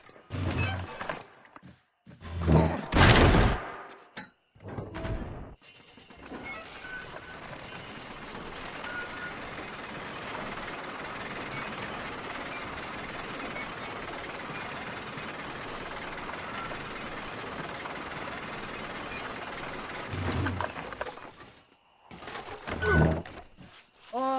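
A freight lift's gears engage in Red Dead Redemption, with several heavy mechanical clunks and ratcheting knocks, then a long steady grinding rumble of the moving lift before more clanks at the end.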